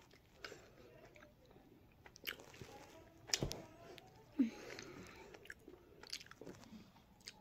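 Close-up chewing and biting of a MrBeast Feastables peanut butter chocolate bar: soft crunches and wet mouth sounds come in irregular bursts, with a louder bite or two, quiet overall.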